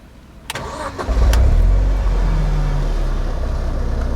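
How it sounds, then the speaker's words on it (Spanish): A BMW Z4 E85 engine starts with a few clicks, then catches into a loud, steady, smooth idle that keeps running close by. "El coche suena muy bien, suena bonito"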